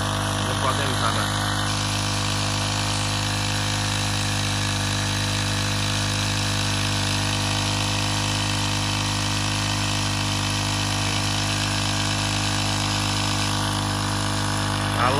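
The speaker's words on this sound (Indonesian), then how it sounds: "lakuin penyemprotan, ini mesinnya kecil." A small engine-driven pesticide sprayer pump runs steadily in a durian orchard, giving a constant mechanical drone with a strong hum and no letup, heard from fairly close for the whole stretch.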